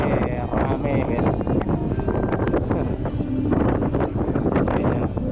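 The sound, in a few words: strong wind on a ship deck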